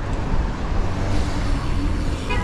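Street traffic in Los Angeles heard close by while mountain biking, a brief loud wash of passing vehicles and road roar with wind buffeting.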